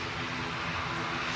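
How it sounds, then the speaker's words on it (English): An ATR turboprop airliner at Manchester Airport roars steadily and loudly with dense broadband engine and propeller noise, unbroken and close. "ATR gonna go, so noisy."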